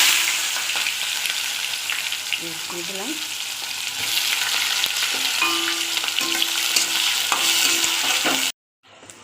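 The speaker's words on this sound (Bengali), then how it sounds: "তো পেঁয়াজটা ভাজা হয়ে গেছে" Sliced onion frying in hot oil in a pan with cumin seeds, whole garam masala, bay leaf and dried red chilli for a mutton curry; a steady close sizzle with stirring and a short spoken phrase, cutting off abruptly at the end.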